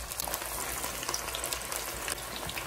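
Marinated pork pieces lightly coated in cornstarch frying in oil over medium heat, a dense, continuous crackling sizzle that stays close and steady throughout.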